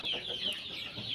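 Faint, continuous peeping and soft clucking from 45-day-old chicks, a small flock heard close without any talk.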